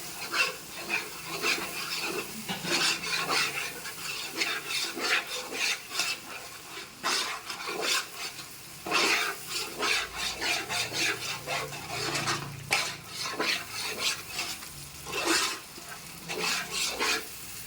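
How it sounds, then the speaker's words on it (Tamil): Ginger garlic paste stirred in a large pot for wedding-style Chennai biryani, repeated scraping and rasping strokes with a low sizzle underneath, irregular rhythm, fairly faint. "2 கிலோ அரிசிக்கு 300 கிராம் இஞ்சி பூண்டு பேஸ்ட் சேர்த்துருக்கோம். ஓகேவா? இதை நல்லா கிண்டி விட்டுருவோம்."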